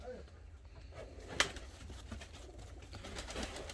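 Pigeons cooing in a loft of fancy breeding pigeons, soft low murmurs throughout with one sharp brief sound mid-clip, faint and close under background noise.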